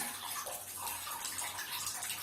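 Water runs steadily into a bathtub, a continuous soft rushing and splashing with no voices.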